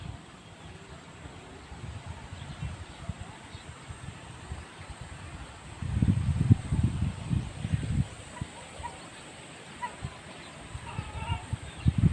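Steady wind rushes and buffets outdoors in Batangas, Philippines, with louder gusts rumbling against the microphone partway through; no talking.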